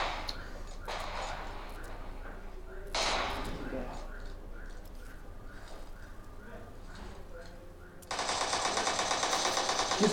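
Rapid gunfire from the Fortnite Mobile battle royale game, played on a OnePlus 6 phone, comes in dense bursts, with a loud sustained burst near the end, under players' voices chatting.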